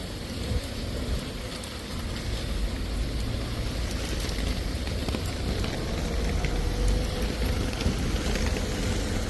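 Steady rain with wind, a dense constant wash of patter and low rumble, fairly loud throughout with no thunder.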